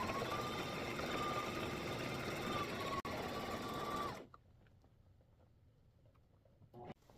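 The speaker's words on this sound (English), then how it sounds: "Now we take this over to the sewing machine and we are going to stitch around." A sewing machine stitches around the edge of fabric for a bingo bag, running with a steady, close whir for about four seconds before stopping abruptly, leaving near silence with a faint clunk near the end.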